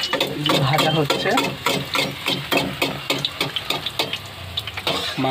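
Kachori frying in hot oil in a wok, with rapid rhythmic clinks and scrapes of stirring over steady sizzle, close and fairly loud, with a voice in the background.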